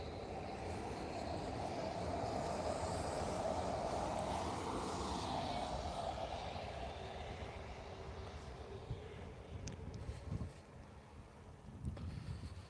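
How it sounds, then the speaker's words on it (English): A train rolls past outdoors, a broad, steady rumble with wind noise that swells, holds, then thins out as it moves away, with a few clanks near the end. "oh, train is coming"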